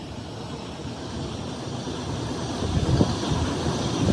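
A Chinese HXD1C six-axle electric freight locomotive running, a steady broad rumbling roar with a faint tonal whine, growing slightly louder toward the end, with no voices.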